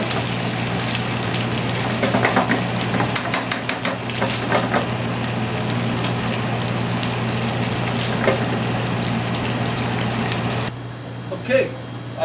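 Food simmers in a pan under a layer of sharp provolone, a steady close hiss with scattered pops and sputters that runs throughout and drops off near the end, while someone talks over it.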